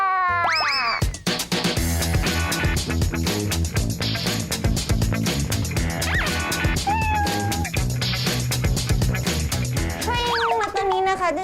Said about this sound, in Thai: นี่คือน้องมะแนงเป็นแมวประจำที่นี่อีกหนึ่งตัวนะคะ